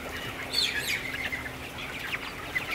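Chickens on a farm cluck and chirp softly over a steady hum of background noise, their calls scattered and overlapping at a moderate distance.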